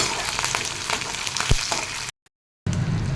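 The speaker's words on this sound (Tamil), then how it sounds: "காஞ்ச மிளகாய், இஞ்சி இதையும் போட்டு நல்லா வதக்கிக்கலாம்." Dried red chilies and ginger sauté in a pan for an urad dal and curry leaf chutney, giving a loud, close, dense sizzle that cuts out abruptly for half a second before resuming.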